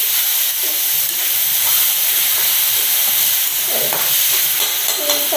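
Spicy village-style chicken is stirred in a hot pan, giving a loud, continuous steamy hiss and sizzle with faint stirring movements underneath.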